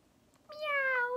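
A single drawn-out cat meow, close and clear, rising then slowly falling, with quiet background before it.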